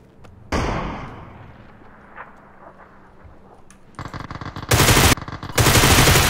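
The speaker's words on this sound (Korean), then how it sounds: "좀 계속 쏘고 있는 거 보니까" Video game gunfire: a single sharp shot rings out, then after a quieter stretch loud, rapid automatic bursts build up and hammer continuously near the end, with no talking.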